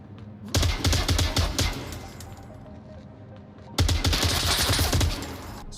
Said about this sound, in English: switching over to the M249 saw, activating the bipod, is the same thing. This thing comes with a red dot, and because the magazine is so large, I can just keep firing away